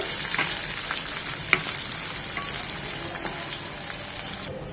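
Chopped onion and garlic fry in oil for a kalai greens stir-fry, a close, steady sizzle with light scraping and stirring taps throughout, easing off at the very end.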